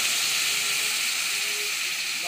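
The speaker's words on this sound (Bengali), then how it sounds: "দেখো এবার আমি একটু জল দিয়ে দেবো।" Water poured into a hot pan of cooking vegetables for Maggi sets off a loud, continuous sizzling hiss of steam that fills the whole moment, close and steady.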